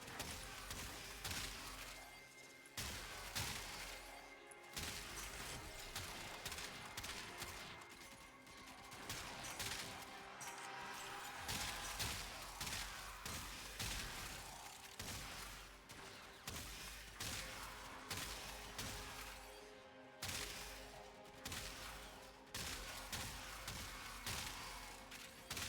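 The Bronco Prime shotgun in the Warframe video game fires in dense, repeated blasts, with crashing impacts and shattering over continuous game noise, all at a faint overall level.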